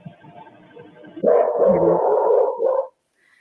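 A dog gives one drawn-out, bark-like outburst lasting about a second and a half, moderately loud against a quiet nighttime background, with no one speaking.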